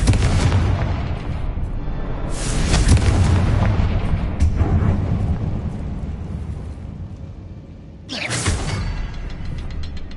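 Confringo fire spell blasts in the video game Hogwarts Legacy: loud booming explosive bursts, one at the start, another a few seconds in and a sharp one near the end, with rumbling fire between.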